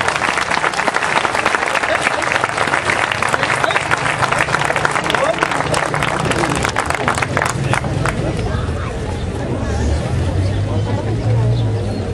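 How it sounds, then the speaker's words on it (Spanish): Spectators at a Shinkyokushin karate exhibition at a flower fair applaud two competitors, loud dense clapping with crowd babble that thins out toward the end as the noise of the venue remains. "Muy fuerte el aplauso para ellos dos."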